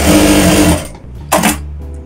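A Jack A2C industrial sewing machine stitches loudly with a steady motor whir, then stops abruptly, followed by a brief sharp burst of thread trimming and a low idle hum.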